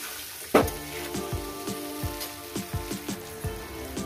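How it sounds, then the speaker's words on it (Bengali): Green jackfruit frying in a pan, a continuous sizzle broken by a sharp clack, then repeated knocks and scrapes of a spatula stirring at an irregular beat. "সবে আমার 6 মিনিট হয়েছে এঁচোড়টাকে ভাজছি"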